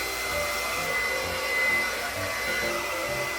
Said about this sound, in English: I am going to diffuse this and then stretch it